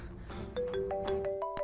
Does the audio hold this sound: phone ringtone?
yes